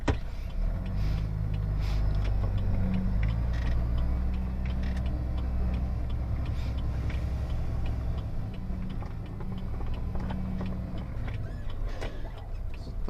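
A delivery truck pulls away slowly: a steady low engine rumble and road noise fill the cab, with faint creaks and rattles throughout and no voices.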